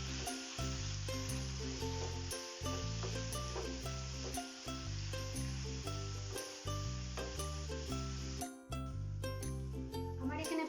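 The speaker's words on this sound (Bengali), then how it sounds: "এবার এই পেঁয়াজটাকে ভালো করে নাড়তে হবে যতক্ষণ না পর্যন্ত তাতে একটা ব্রাউনিশ ভাব আসে।" Chopped onions sizzle in hot oil in a pan while being stirred, a continuous frying hiss that sits beneath loud rhythmic background music.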